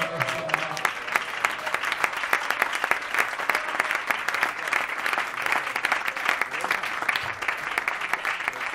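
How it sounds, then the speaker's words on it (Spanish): Church congregation applauding during an evangelical sermon, a dense steady wash of many hands clapping that fills the whole stretch at an even level, with a few faint voices mixed in. "Denle un aplauso a Jesucristo, el Señor."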